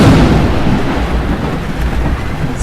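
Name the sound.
thunderstorm with thunder and rain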